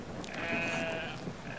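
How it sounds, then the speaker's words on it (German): A sheep in the video game Brothers: A Tale of Two Sons gives a drawn-out, wavering bleat, followed by a shorter second cry, heard over a soft game backdrop. "So, nimm dir das Schaf."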